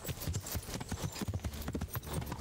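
A horse in the video game Kingdom Come: Deliverance gallops across freshly plowed fields, its hooves thudding in a quick, continuous, close rhythm.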